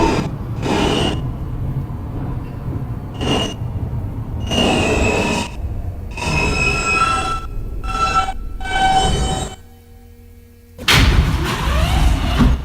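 A New York subway F local train running between stops, its wheels squealing in long bursts and rolling rumble, with a door thump and a brief quiet gap before loud rail noise resumes.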